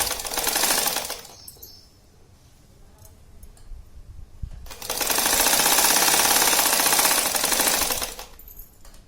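Sewing machine stitching the seams of a zippered fabric shopping bag, two loud sustained bursts of rapid mechanical stitching separated by a quieter pause with handling noise.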